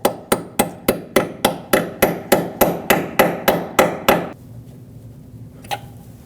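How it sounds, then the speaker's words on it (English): A 6mm Allen socket is hammered onto a control arm bolt on a 2006-2015 Lexus IS250, about fifteen sharp metallic hammer strikes in a fast, even rhythm, close and loud, then a pause and one faint tap. "I'm going to hammer in a 6mm Allen socket."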